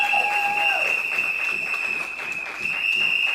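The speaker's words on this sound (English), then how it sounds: "Give them a round of applause." Audience applause for the fighters at an evening event, a steady wash of clapping with a bright continuous tone running through it, a brief tone dropping away near the start, loud and sustained throughout.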